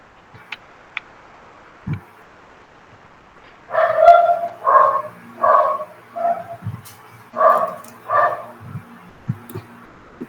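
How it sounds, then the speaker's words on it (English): A series of about six dog barks in a steady rhythm, fairly near, with a few soft ticks and clicks around them. "The dogs are barking,"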